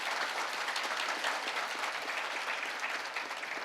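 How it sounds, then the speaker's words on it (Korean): Sustained audience applause at a university conference plenary session, as presidents are introduced; dense, steady clapping from a large crowd fills the room throughout with no talk over it. "큰 박수를 부탁드리겠습니다"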